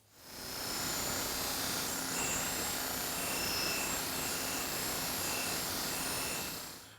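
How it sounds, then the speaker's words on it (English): An angle grinder smoothing and rolling the toe of a horse's hoof, also evening out the nails there, runs as a steady, loud, high-pitched whine from start to finish with no talking. "So using the grinder,"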